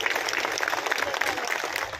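An audience at a public welcome event gives a short, dense round of clapping that stays steady and fairly loud the whole time.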